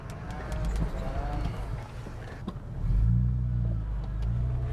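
An off-road 4x4 crawls uphill at around 1000 RPM with the front locker engaged, its low engine rumble swelling midway while tyres crunch and rattle over rough ground, and a voice talks over it.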